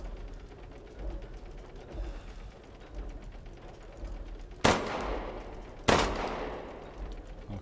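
Two sharp, loud gunshots in Resident Evil Village ring out about a second apart, each trailing off, after several seconds of quieter mechanical rattling and clicking.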